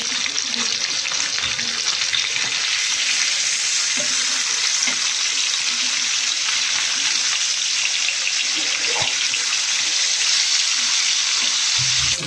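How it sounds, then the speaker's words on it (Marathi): Pieces of halwa fish (pomfret) fry in a little oil in a hot pan, producing a loud, continuous close-up sizzle with occasional crackles and no talking. "आता मच्छी तळते, त्याच्यात थोडं तेल सोडते।"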